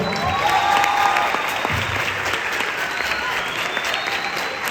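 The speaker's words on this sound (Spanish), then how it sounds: "Un aplauso." Audience applause fills a concert or live performance venue, steady sustained clapping from a crowd without a break, loud and close throughout.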